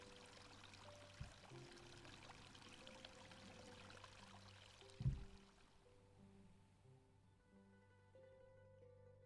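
Gentle pouring and trickling water in the Dream Garden zen diorama game, a soft steady flow with a couple of brief bumps, fading quieter toward the end.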